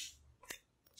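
Scissors snip through fabric for a skirt with low-band and eyelet construction, two quick, quiet, crisp cuts close by in a hushed room.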